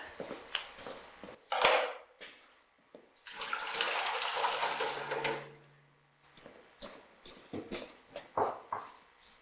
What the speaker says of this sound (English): So again, we make the mane wet. Mostly we're trying to get the black part wet.